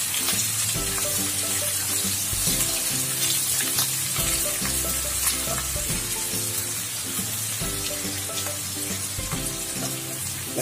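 Garlic and onion frying in a pan for pork estofado, a steady loud sizzle with stirring scrapes throughout, layered under tonal background music.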